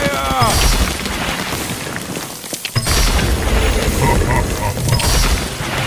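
Archidon archers firing volleys in the Stick War video game, with dense, continuous battle clatter and mechanical clicking sounds at steady loudness, with a brief dip in the middle.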